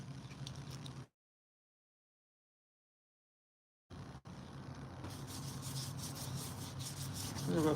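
Perfume sample being rubbed onto skin, a soft continuous friction scrape, close and steady, broken by a few seconds of total silence before the rubbing resumes and swells louder at the end.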